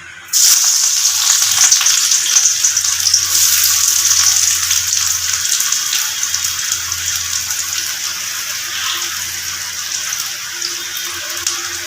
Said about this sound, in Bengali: খুব ভালোভাবে পেঁয়াজ কুচিটাকে আমি ভেজে নেব